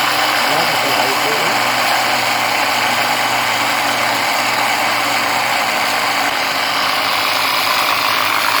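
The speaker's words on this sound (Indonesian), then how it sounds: "kita lakukan proses blender ya. Ini kita lakukan sampai ukuran mencapai ukuran kecil ya." An electric blender grinds ginger with a steady, loud motor whir and rattling chop that continues unbroken throughout.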